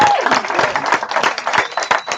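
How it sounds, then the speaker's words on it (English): Audience applause at a talk, steady hand clapping from a crowd that rises and dips over a couple of seconds with no voices over it. "Give a round of applause. Put your hands together here."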